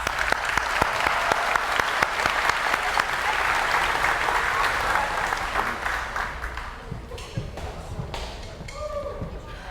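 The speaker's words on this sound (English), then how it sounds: "I applaud you again." Applause for 8th grade band students at a middle school advancement ceremony, a loud, dense round of clapping that tapers off near the end, with a voice briefly audible as it fades.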